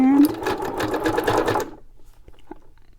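A sewing machine stitching a zigzag hums in a fast, close, rhythmic burst for about a second and a half, then stops, leaving a few soft clicks, with a person talking over the stitching.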